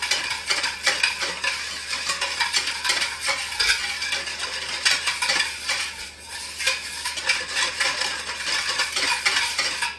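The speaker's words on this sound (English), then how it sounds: "I have 3 tablespoons of salt that I'm going to stir in and dissolve into the water" Salt stirred into cold water in a pot to brine beans, a steady rhythmic scraping and swishing of a utensil going round, close and moderately loud with no talk.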